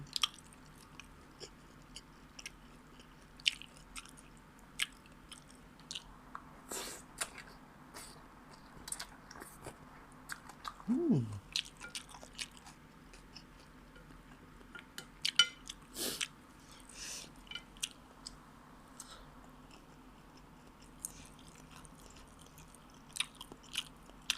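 Someone close to the mic chews spicy Mama instant noodle salad with fried pork roll and crispy pork, giving quiet wet bites and occasional sharp crunches. Faint cutlery clinks sound against a dish and there is no talk.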